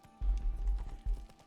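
Heavy horse hooves thudding in The Witcher 3, two bursts of galloping steps close by with a faint background hum.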